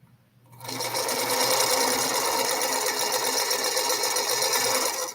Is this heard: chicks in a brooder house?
no